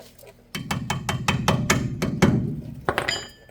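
Hammer taps on a steel part in the front end of a 1978 Chevrolet C10 pickup, roughly a dozen quick sharp metallic knocks in an uneven rhythm, close by over a low rumbling background.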